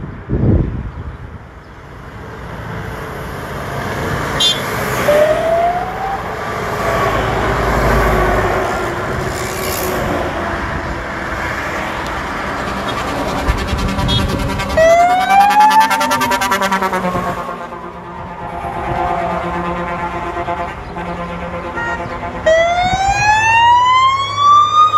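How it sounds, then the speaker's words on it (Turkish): Azerbaijani fire engines pass through Terme, Samsun, Turkey, their wailing sirens rising and falling repeatedly over loud road and engine rumble, several trucks following one another close by. "Azerbaycan itfaiyesi ve ekipleri Terme ilçemizden geçiş yapıyor."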